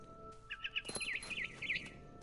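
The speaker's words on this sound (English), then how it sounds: "It was a barn swallow going back to her nest." A barn swallow in a video game chirps in quick, bright repeated notes, several short twittering calls in a row over a faint steady background hum.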